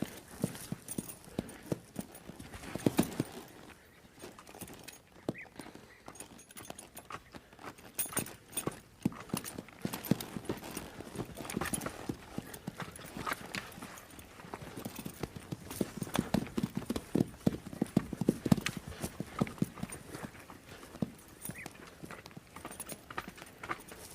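Wild horse hooves clip-clop on the ground in an uneven walking rhythm, fairly faint and close, with irregular clusters of strikes over a quiet outdoor background and no talk.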